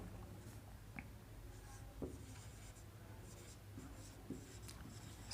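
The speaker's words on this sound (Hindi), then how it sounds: "शाहजहां के बगल में अ ग्रेट मुगल एम्परर लिख सकते हैं, तो चलिए लिख देते हैं।" Faint strokes of writing on a board, scratchy marks coming in short bursts with a few light taps, heard alone over a low steady background hum.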